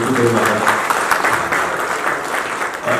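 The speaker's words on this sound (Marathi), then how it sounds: "मी माझ्या पत्रकार बांधवांना विनंती करेन की आपण टाळ्या वाजवण्यात करू" Journalists applaud at a state press association award ceremony, a dense, steady wash of clapping lasting throughout, close and fairly loud, with voices mixed into the crowd noise.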